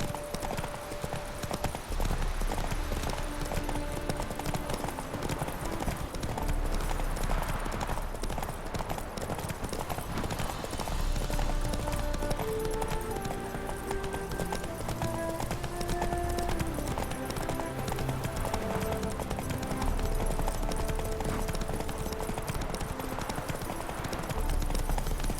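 Roach, a horse in The Witcher 3 game, gallops with steady, continuous clip-clop hooves at close range, layered over constant game music throughout.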